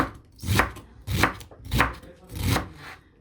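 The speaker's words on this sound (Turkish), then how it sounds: "Birazcık da beyaz lahana salatası yapacağım. Şöyle ince ince doğrayayım." Four steady knife chops through white cabbage on a cutting board, evenly spaced about every 0.6 seconds, close and clear with no talking.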